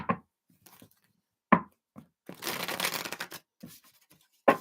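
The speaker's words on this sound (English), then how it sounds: "One more shuffle." Tarot cards are shuffled: a riffle burst in the middle, framed by a few sharp taps and snaps as the deck is handled.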